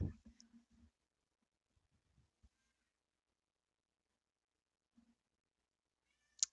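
A pet cat gives a short meow, quiet in the room, with a few soft clicks and taps around it and a sharper sound at the end.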